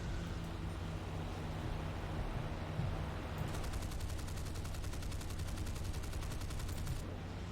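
A British 6-pounder tank gun in War Thunder fires amid ongoing gunfire and engine rumble, loud and steady throughout, with a rapid rattling burst joining in the second half.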